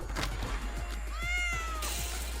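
A cat meows twice in a rising, drawn-out wail, close and clear over a steady low hum, with faint clicks and rustling around it.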